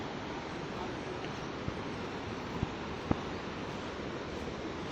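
Steady, dense roar of a mountain waterfall on a foggy, cold trail on the way to Kedarnath, a broad continuous rush close to the microphone with a few faint knocks, no voices.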